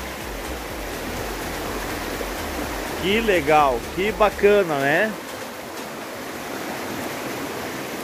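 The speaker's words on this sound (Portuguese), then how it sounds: "Olha a água correndo aqui no fundo aqui, galera." Steady, broad rush of a stream running at a nature campsite in Riozinho, Rio Grande do Sul, at night, continuous and fairly close, with someone talking briefly over it midway.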